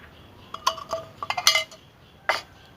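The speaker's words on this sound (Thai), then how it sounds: "เราก็จะปิดฝาไว้นะครับ" A metal pot lid clinks and rattles as it settles onto a pot of boiling canned pickled mustard greens, giving a few sharp clatters close by and then a final clink.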